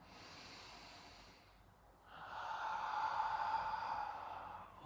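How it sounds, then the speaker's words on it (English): Slow breathing in and out through the nose during a core breathing exercise: a soft inhale, a pause, then a longer, steadier exhale, close and quiet with no talking. "Inhale nose, exhale nose."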